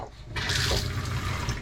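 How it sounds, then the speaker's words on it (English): A boat's onboard toilet flushes nearby, a short burst of rushing water that starts abruptly and then swirls and gurgles steadily, heard alone. "Toilet working."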